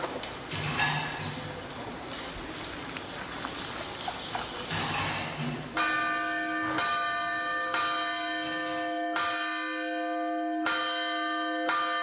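A monastery church bell in Bulgaria rings out for evening service, its strokes ringing on with long sustained tones over a busy, noisy background, clear and prominent.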